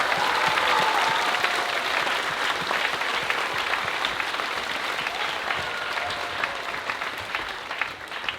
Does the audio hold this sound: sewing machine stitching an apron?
no